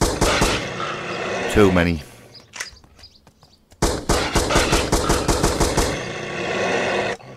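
Rapid gunfire in the Creatures Inc video game as creatures are shot, bursts of loud shots in the first seconds and again after a short lull, with someone talking over the noise.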